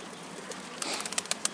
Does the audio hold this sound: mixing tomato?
no